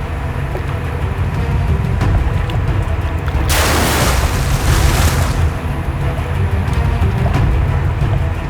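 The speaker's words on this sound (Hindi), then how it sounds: "ये लोग गोलियां क्यों चला रहे हैं?" A burst of gunfire erupts during a Hindi TV crime drama scene at sea, one harsh sustained volley lasting a couple of seconds over a steady background rumble.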